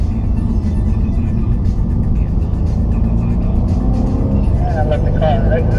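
A Mercedes C63 on a race track, its engine droning loud and steady from inside the car as it drives and slows for a corner, with a faint squeal near the end.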